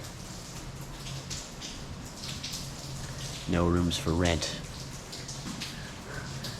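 Steady storm rain patters and hisses outside, heard from indoors at Upper Canada Village, while a person speaks briefly partway through.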